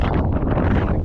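Strong gusting wind on a lake during spring bass fishing, roaring loudly and continuously against the microphone with heavy low rumble.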